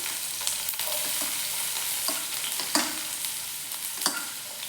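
Chopped onion frying in hot oil for beetroot Manchurian, a steady close sizzle with a few sharper crackles and stirring clatters, no voices over it.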